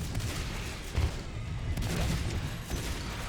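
Two shotguns blasting in the video game Natural Selection 2, a burst of heavy overlapping gunfire with a few louder booms over a short, chaotic stretch.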